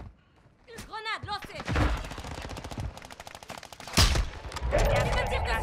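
Warzone gunfire: a fast automatic burst rattling close and loud, followed by another volley, with someone talking over the shooting.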